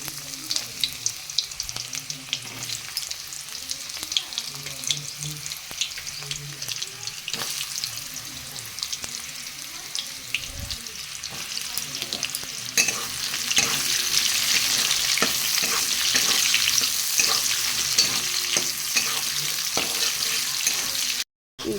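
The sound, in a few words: carrots frying in mustard oil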